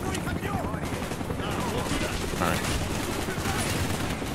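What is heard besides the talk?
shotgun gunfire in video game Call of Duty: Black Ops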